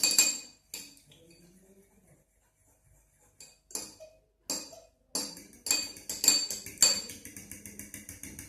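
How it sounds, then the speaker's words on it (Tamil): A whisk or fork clinks sharply against a bowl in bursts of quick strokes while an egg is beaten for an egg wash for masala egg puffs, with brief pauses between the rattling runs. "ஒரு முட்டை எடுத்து கொஞ்சம் நல்லா அதை பீட் பண்ணிவிட்டு"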